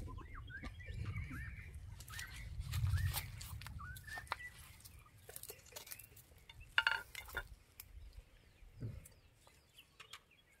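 Soft, scattered clucks from a chicken somewhere nearby, mixed with low rustling and occasional sharp knocks, no talking.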